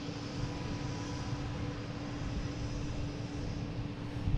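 An airliner arriving at Boston Logan airport makes a distant, steady jet roar, a broad and fairly faint drone with a low hum that never lets up.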